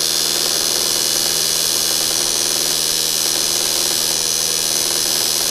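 A homemade pulse motor runs with a steady, loud whine and hum that never changes and fills the whole stretch, with no other sounds.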